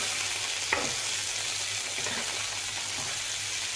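Beetroot and mixed winter vegetables stir-frying in a pan give off a soft continuous sizzle, with a brief clink of a utensil near the start and faint scraping of stirring, close by and without speech.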